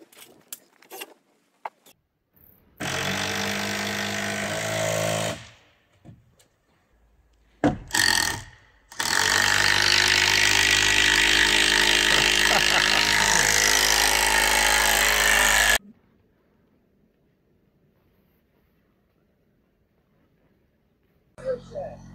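A power tool drives screws into wooden beams on a modular house build site, running in two loud sustained bursts of whirring and grinding, the second lasting about eight seconds, separated by short clunks and quiet stretches.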